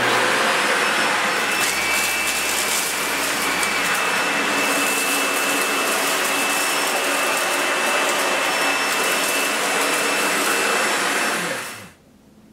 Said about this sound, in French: Donc je vais activer l'aspirateur et puis vous montrer un petit peu sa puissance.